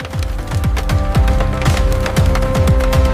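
Loud, rapid crunching and cracking from a shredder grinding plastic trash in a factory, with repeated sharp bursts over a constant mechanical rumble.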